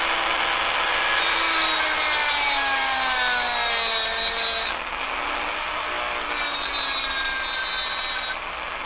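A Dremel rotary tool grinds during a Deans connector conversion, giving a close, shrill whine that drops in pitch under load, with two short breaks in the grinding.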